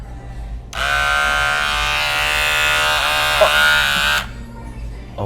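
An electric hair clipper buzzing steadily for about three and a half seconds, close and fairly loud, with a slight dip in pitch midway, then switching off.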